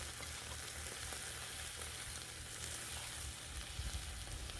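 Steak frying on a flat griddle, a steady soft hiss of sizzling fat that continues without break, fairly faint and heard alone.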